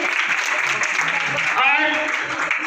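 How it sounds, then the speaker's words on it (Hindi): Audience applause welcoming a guest speaker at an Urdu literary event on contemporary fiction, a steady, dense wash of clapping from a crowd filling the whole stretch, with a voice briefly audible partway through. "आप जोरदार तालियों से डॉक्टर मोहम्मद फारूक आजम का इस्तकबाल करें।"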